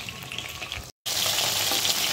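Chicken pieces frying slowly over low heat in a pan, a steady close hiss of crackling oil that cuts out for a moment and then returns a little louder.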